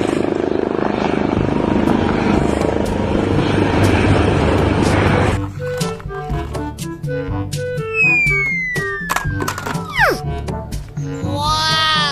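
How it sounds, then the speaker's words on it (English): A helicopter in a video game, with a broad rotor and engine roar for about five seconds, then giving way to scattered electronic game effects, chirps and sweeping tones. "This is Helicopter."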